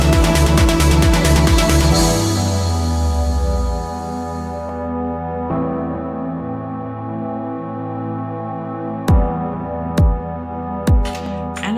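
A trance track drop plays loud and full, with dense synth layers and heavy bass that thin out after a few seconds into sustained pads, followed by a few sharp percussive hits near the end.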